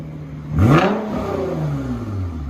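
A single strong rev from an Aston Martin DB11 with no muffler surges up, then the engine note winds slowly back down to a steady rumble, heard close and alone.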